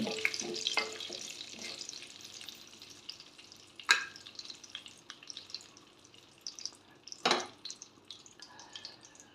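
Tempering seeds splutter in a spoonful of hot butter in a pan, giving quiet crackling and sizzling broken by a few sharp, loud pops, close up and with no talking.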